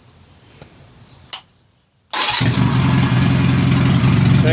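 A Honda Rebel motorcycle, warm from a ride and started without choke, gives a short click and crank before catching abruptly and settling into a loud, steady idle close by.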